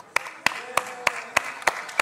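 Slow, evenly spaced hand claps at a talk on open, ethical technology: seven sharp, close claps about a third of a second apart over a faint room murmur.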